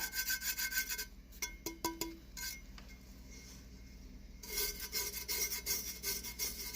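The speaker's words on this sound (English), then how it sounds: "Now I'm just going to rub." Loose glitter is rubbed flat against the coated surface of a craft tumbler, a close scratchy rasping of hand strokes, pausing in the middle for a few light taps before the rubbing resumes.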